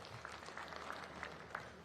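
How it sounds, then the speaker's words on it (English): Audience applause at a hospital commissioning ceremony in Abuja, faint and distant, a steady patter of clapping throughout. "Give him a round of applause"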